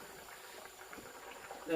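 A pot of water heating on a stove for pasta, coming up to the boil, gives a soft, steady bubbling hiss that stays faint and even throughout.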